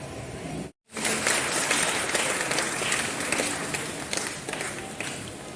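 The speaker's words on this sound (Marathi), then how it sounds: "टाळ्या वाजवा जरा थकूनच आहे टाळ्या वाजवा." A crowd of people claps hands steadily and fairly loudly at a family gathering, a dense continuous patter after a brief dropout, with no clear talk over it.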